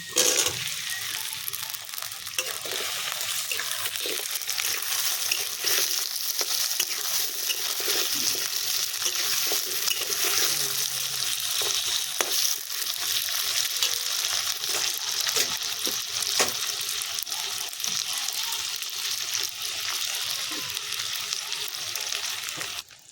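Taro (kochu) frying in a pan for a chicken-skin curry, a steady dense sizzle that runs continuously at close range with occasional pops and crackles, no voices.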